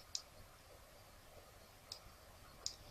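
A computer mouse clicks while a flyer is built in Photoshop: three faint, sharp, isolated clicks spaced unevenly over a quiet, hissy background, with no talking.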